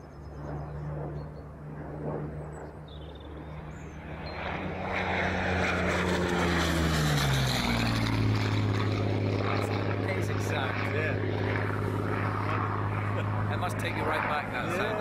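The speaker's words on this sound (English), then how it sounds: "only surviving Hurricane which fought in the Battle of Britain that is still flying today" The only surviving Battle of Britain Hawker Hurricane, a WWII propeller fighter still flying, approaches and passes overhead as a piston-engine drone that swells and then holds loud with a falling pitch, with voices speaking under it.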